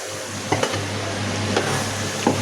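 Tomato goes into a curry frying in a pan, a steady close sizzle with a low hum underneath and a few soft utensil knocks against the pan.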